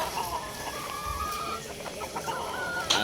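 Pure Gilmore hatch hens from a game farm cluck close by in a steady, busy chatter of short calls over faint background noise.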